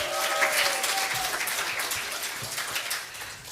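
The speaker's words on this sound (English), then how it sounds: "Let's give Jen another round of applause." A gathered audience gives Jen a round of applause at a Sunday community gathering, many hands clapping steadily at moderate volume before gradually tapering off, with faint voices mixed in.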